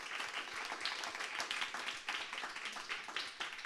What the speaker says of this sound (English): I feel like we should give him a round of applause